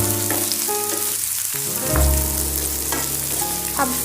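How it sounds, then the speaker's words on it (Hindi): Chopped spring onions are stirred into chilli paneer frying on high heat, a steady loud sizzle with scraping spoon strokes against the pan throughout. "अब हम स्प्रिंग अनियन को इसमें डालेंगे। मैंने चॉप कर रखा है बारीक। अब इन्हें अच्छे से मिक्स कर लेंगे।"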